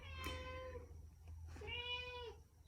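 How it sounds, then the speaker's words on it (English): A cat gives two drawn-out, wavering meows, fairly close and clear over a steady low background hum, with no talking. "There's my cat."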